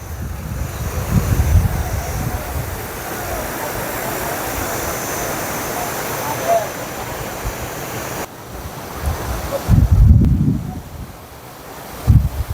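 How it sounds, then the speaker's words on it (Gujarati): The Jhadko river at Sukhpar near Bhuj, Kutch, runs full after days of rain, making a continuous broad rushing roar. Gusts of wind buffet the microphone in places, and there is no talk. "હાલ પાણીનો પ્રવાહ તમે જોઈ શકો છો"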